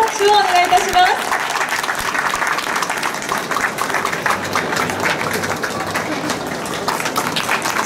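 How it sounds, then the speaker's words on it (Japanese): Warm audience applause at an awards ceremony for a latte art championship in Tokyo, as a third-place winner comes forward; loud sustained clapping fills the hall after a brief spoken announcement. "皆様どうぞ盛大な拍手をお願いいたします。"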